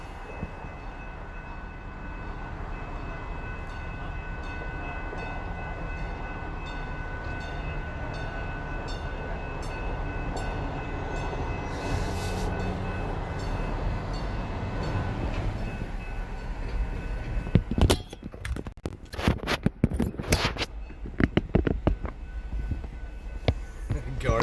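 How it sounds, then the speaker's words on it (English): A slow-moving train passes along an Austin street with a steady heavy rumble and rolling wheels, then ends in a burst of louder clanks and knocks near the end, with faint voices in the background. "That train's moving awfully slow through here."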